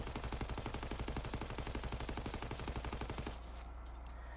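STG44 assault rifle firing full-auto in Call of Duty WW2, a long, rapid, steady burst of close, loud shots in tight rhythm that stops abruptly, leaving a low ambient hum.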